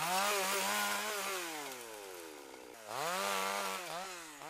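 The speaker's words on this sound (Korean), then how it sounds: "시원하게 톱질하는 베테랑 선배" A chainsaw revs loudly and steadily while felling and cutting wood on a mountain logging site, its pitch dipping under load and rising again near the end.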